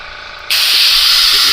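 Airbrush spraying paint, starting abruptly after a quiet moment and then continuing as a loud, steady, close hiss to the end.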